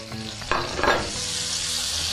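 Food fries in a pan until golden, giving a steady close sizzle with some stirring, continuous and fairly loud throughout.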